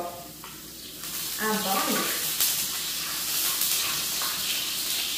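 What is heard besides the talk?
lard heating in a pan for frying on a wood stove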